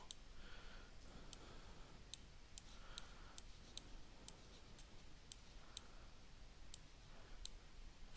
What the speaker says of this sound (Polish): Wcisnąłem spację i kliknięciami przesuwam obrazek